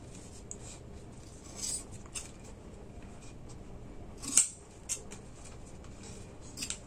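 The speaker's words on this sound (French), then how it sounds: "on va couper un peu ici ce qui est en trop" Scissors snip off excess material at close range: a few quiet, brief cuts spaced irregularly over a low steady background, with one sharper snip standing out midway.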